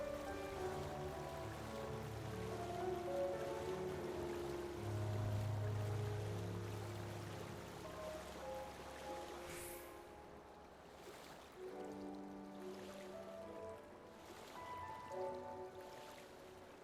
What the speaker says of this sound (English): I'm just swimming across the damn ocean